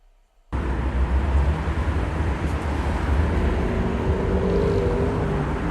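Dense city traffic ambience cuts in abruptly after a brief near-silence, then continues as a steady, loud, broadband rumble and hiss of passing vehicles.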